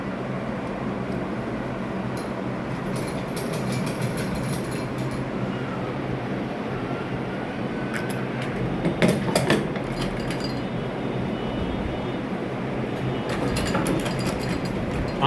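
A sewing machine stitches a coat collar with a continuous fast mechanical whir and clatter, steady and close, broken by a few sharper clinks of handling partway through, with no voices.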